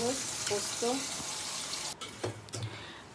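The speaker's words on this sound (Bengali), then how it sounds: "আলু দিয়ে পনির রান্না করছে, তাই আলুটাকে ভেজে নিচ্ছে।" Potatoes fry with spices in a kadai as part of a paneer dish, giving a continuous close sizzle. A voice talks briefly at the start, then a few stirring clatters follow.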